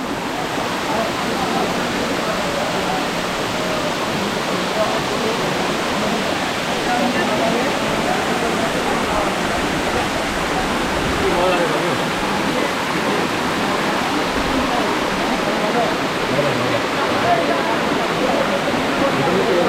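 Mukta Jhorna, a tall waterfall deep in the hills of Rangamati, Bangladesh, pours down in a steady, dense roar of falling water, loud and close, with a voice speaking over it.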